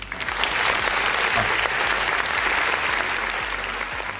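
Sustained applause from a trade union regional workshop audience, dense steady clapping carrying evenly through the whole stretch with no voices over it.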